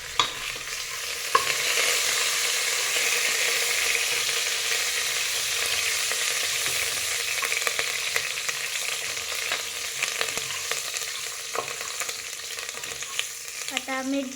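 Cinnamon and curry leaves sizzle steadily in a hot pan while being stirred, a continuous close frying hiss with occasional scrapes of the spoon throughout.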